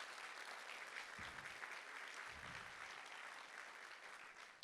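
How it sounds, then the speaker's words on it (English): An annual business dinner audience applauds the evening's sponsors: a broad, even wash of many hands clapping at moderate distance, continuous throughout with no voices on top. "How about a round of applause for our sponsors this evening?"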